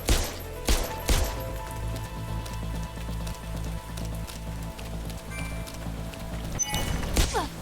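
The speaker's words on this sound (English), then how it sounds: "I'm gonna shoot you with this gun I've got." Gunfire in the game Parasite Mutant, a few sharp shots near the start and again toward the end, over a dense crackling rattle and low background music.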